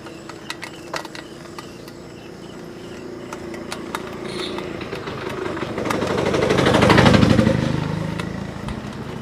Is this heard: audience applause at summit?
no